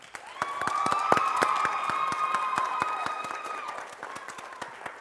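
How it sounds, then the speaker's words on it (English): A high school choir concert audience applauds the soloist with scattered, sparse claps in a large hall, a sustained tone ringing beneath, the clapping thinning out toward the end. "Could we have another round of applause for our soloist,"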